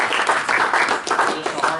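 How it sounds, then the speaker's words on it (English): An audience gives a round of applause, dense continuous clapping at moderate loudness lasting the whole stretch. "let's give Christy a round of applause too"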